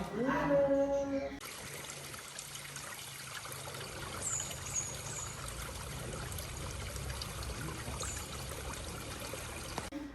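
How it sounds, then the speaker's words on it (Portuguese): Gentle water trickling in a landscaped country garden, a soft continuous splashing hiss that runs steadily for several seconds after a brief tonal sound at the start. "Aquele barulho da água, que é uma delícia."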